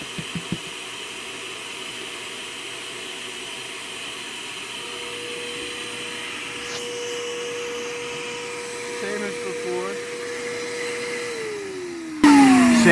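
A vacuum seeder, either the Small Farm Works or the Johnny's Selected Seeds model, runs with a steady blower-like whine and hiss, holding an even tone before its pitch shifts and the noise swells sharply near the end.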